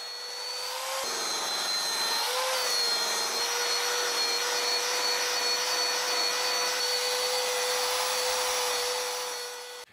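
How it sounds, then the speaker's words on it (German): A steady, high-pitched mechanical whine of a buffing wheel polishing ivory piano keys with polishing paste runs continuously with a rough rubbing hiss, loud and close throughout. "Nach dem Feinschliff wird das Elfenbein in 2 Stufen auf Hochglanz poliert."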